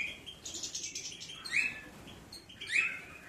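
Pigeons give soft calls and chirps, a couple of brighter tweets standing out over a quiet hiss, close by, with no talking.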